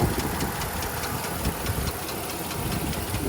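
A rough, damaged LB7 Duramax 6.6 diesel truck engine runs steadily with a rattling, knocking idle and a constant heavy drone, close by and loud throughout.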